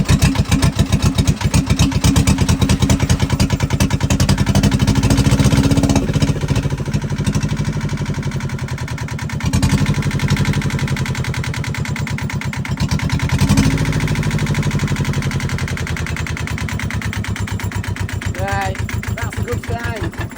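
A marine engine on a wrecked catamaran turns over and runs, a loud, rough, pulsing mechanical chug with dips and surges in rhythm, heard up close while a voice talks over it.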